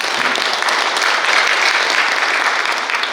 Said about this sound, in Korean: 격려의 박수 좀 부탁드리겠습니다